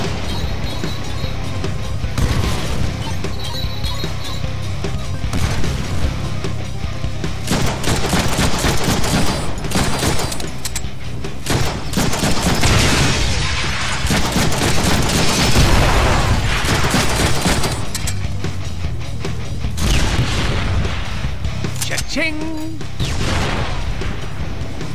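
Rocket attacks in the Deadpool video game set off a dense, continuous barrage of booming explosions and crashing impacts, loud and sustained, mixed with gunfire-like bursts and game noise throughout.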